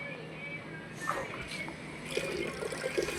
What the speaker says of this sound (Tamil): நல்லா ஃபுல்லாக ஊற்றிக்கிறோம்